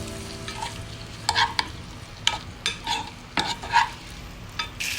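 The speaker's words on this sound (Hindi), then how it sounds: "इनको हल्का सा भून लेंगे हम।" Boiled, cut potatoes frying in desi ghee in a pan, a soft sizzle under intermittent scraping and clinks of a spoon stirring them, close by with no speech.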